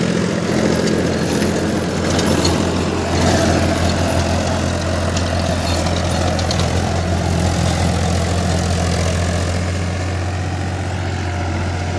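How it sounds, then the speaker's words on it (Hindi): Tractor engine running steadily as it pulls into a farm field for sowing mustard, a loud, constant low diesel drone with a deep hum that holds throughout without pause. "ट्रैक्टर मेरे खेत में घुसने जा रहा है"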